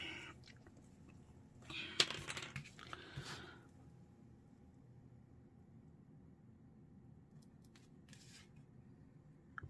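Scissors snip loose threads off a strip of lace in a few quick, close cuts clustered near the start, followed by quiet handling and a couple of faint later clicks.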